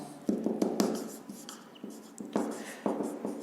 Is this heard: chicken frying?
no